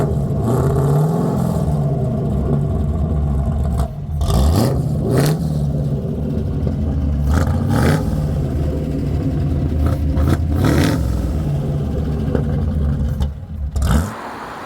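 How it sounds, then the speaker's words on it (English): A Dutton Phaeton kit car with a Rover V8 engine rumbles loudly up close, rising and falling through several revving surges and gear changes over a deep, steady burble. "It has a Rover V8 and it sounds really very naughty indeed."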